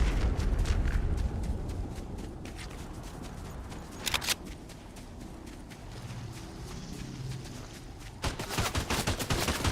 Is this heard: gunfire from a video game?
yes